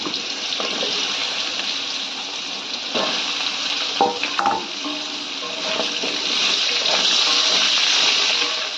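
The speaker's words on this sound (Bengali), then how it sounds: "এই আলুগুলো এর মধ্যেই আমি ভেজে নেব" Steady sizzling of potato strips frying in oil, with occasional clinks and scrapes of stirring, continuous and fairly loud throughout.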